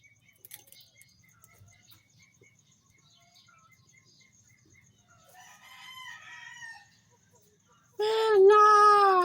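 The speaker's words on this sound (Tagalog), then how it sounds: "Kumilaw pa nga yung manok." A rooster crows loudly and close by near the end, a long harmonic call standing out after quieter background noise and a few faint bird chirps earlier.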